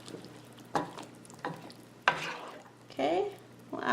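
Beef bourguignon stirred in a pot, four or five separate scraping, sloshing strokes spaced under a second apart over a low hum, close and moderately quiet, with no talk.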